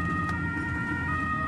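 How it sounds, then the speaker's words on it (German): An ambulance siren wails steadily throughout, loud and close, heard from inside or near the vehicle as it drives on an emergency run with flashing lights, with road and engine rumble underneath. "Sonderrechte heißt mit Blaulicht und Martinshorn."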